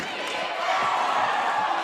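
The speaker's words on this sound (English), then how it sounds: "Crowd's going wild." A crowd cheers loudly and steadily in a gym during a girls high school basketball game, with a broad roar of voices and no single standout shout.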